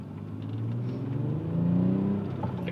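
An Audi A4 fitted with lightweight pulleys and a new thermostat accelerates, its engine a steady close-up drone that climbs in pitch as the revs rise, with no voices.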